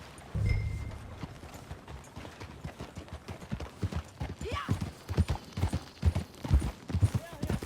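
Steady clip-clopping of horse hooves in the video game Red Dead Redemption 2, a regular rhythmic trot with a voice speaking briefly over it.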